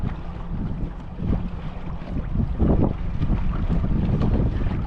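A boat moves along under an electric trolling motor at 70% throttle, giving a steady low whir and wash with wind buffeting the microphone throughout; no one speaks.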